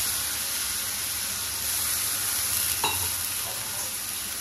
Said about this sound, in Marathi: बटाटा छान परतू।